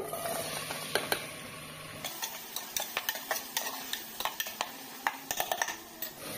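Onion frying in a pan for a Madras-style chicken curry, with steady sizzle and repeated sharp scrapes and clinks of a spoon stirring against the pan; close, with no talk.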